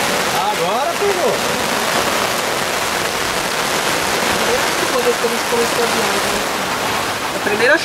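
Heavy rain pours steadily during a road trip near Rivera on the Brazil–Uruguay border, a dense, loud, unbroken hiss throughout with no voices.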